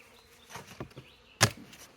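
Honeybee swarm at an apiary moved into a forest, faint buzzing with a few brief louder passes of bees flying close by.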